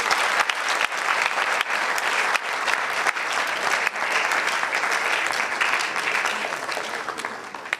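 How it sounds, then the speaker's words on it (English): Sustained audience applause for a guest of honor at a school quiz competition event, dense continuous clapping from a large crowd at steady strength for the whole stretch, tapering slightly at the close. "Please give him a round of applause."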